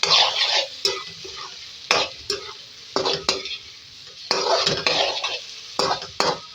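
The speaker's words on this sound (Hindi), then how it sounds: "रेड चिल्ली का पाउडर यानी पिसी मिर्च 1 खाने का चमचा भर के इसको भी ऐड करा और इसकी भुनाई कर लेंगे" Red chilli powder being stir-fried with potato and aubergine in a pan: repeated spatula scrapes and clinks over a steady close sizzle, with several distinct stirring bursts.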